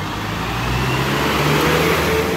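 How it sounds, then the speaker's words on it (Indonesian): A Morena Trans medium bus rolls past on the road near Anyer beach, its engine a steady low rumble rising slightly as it goes by, with continuous traffic noise and no voices. "Morena Trans. Ini medium bis teman-teman."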